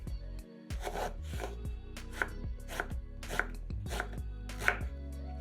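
A knife chops eggplant into cubes on a cutting board, with about eight crisp, evenly spaced thuds and a couple of sharper knocks, close and clear with no one talking.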